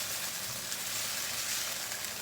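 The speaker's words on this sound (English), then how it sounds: "Now we're sizzling." Vegetables for pad thai sizzle in a hot pan, a steady broadband frying hiss that stays even and close throughout.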